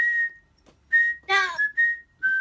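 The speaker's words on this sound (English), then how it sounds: "do you know how to whistle? It goes like this." Someone whistles a simple tune in a few short, clear phrases with brief pauses between them, close and fairly loud, with no talking.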